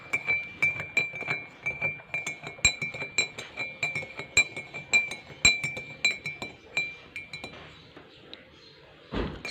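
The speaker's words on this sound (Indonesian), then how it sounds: "Setelah itu kita aduk sampai rata, sampai dia terlarut dalam air tersebut." A metal spoon stirs a solution in a glass of water, making steady, rapid clinking against the glass throughout, fairly close and alone, with a brief louder clatter at the end.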